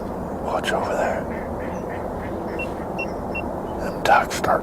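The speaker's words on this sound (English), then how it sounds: "Them ducks start quacking like that." Ducks quack faintly in the distance on a pond during an Illinois deer rut hunt, short nasal calls over steady wind and outdoor rumble, with a sharper burst near the end.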